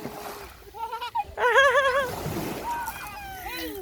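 Children wade into a cold sea, splashing through shallow water over small pebbles, while a voice speaks and laughs close by over the bright splashes.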